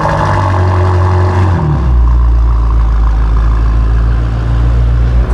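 A BMW M5 engine runs steadily as the car is moved a short distance, a loud, continuous low rumble that shifts pitch once early on, with no voices over it.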